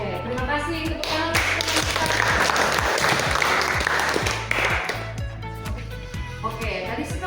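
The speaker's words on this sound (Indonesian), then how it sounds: "terima kasih tepuk tangan" Steady applause from a school religion class, with a regular thumping beat underneath throughout.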